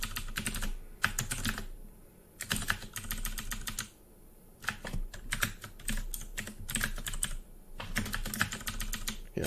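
Computer keyboard keys tap in rapid clustered bursts, including repeated Tab presses, while playing the roguelike Dungeon Crawl Stone Soup, close and crisp with short pauses between flurries and no voice.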